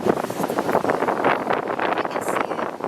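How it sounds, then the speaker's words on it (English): Strong wind buffets the microphone on a beach in Hawaii, a steady broadband rush with gusty surges lasting throughout, loud and close, with no talking. "It's super windy if the audio doesn't play"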